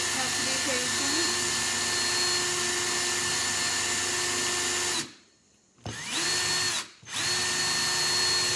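A power drill whines loudly and steadily, then stops twice briefly before spinning back up.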